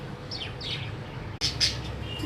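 A pet budgie gives a few short, high chirps in quick pairs, moderately near over a low background hum, with no talking.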